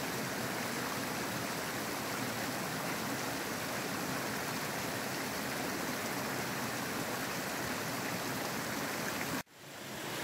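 A small mountain torrent flows steadily and loudly along a hiking trail, with broadband water rushing and splashing throughout, cutting off abruptly near the end.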